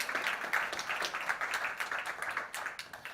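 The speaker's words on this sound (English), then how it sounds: "I'd like to give you, Pedro and Nuno, a round of applause for making this possible" Audience applause at a community hangout event, a soft, steady patter of many hands clapping with faint, uneven peaks and no talk.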